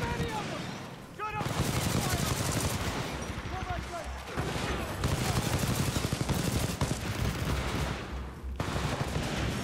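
Continuous heavy automatic gunfire in the Titanfall 2 video game, rapid loud bursts stretching over several seconds with brief pauses and a constant low battle rumble beneath.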